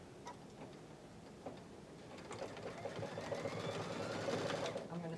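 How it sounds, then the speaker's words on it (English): An embroidery sewing machine stitching fabric held in a hoop, a continuous rapid mechanical ticking that grows slightly louder and busier toward the end, with a person talking over it. "hoop back into the machine. And we're going to stitch this down."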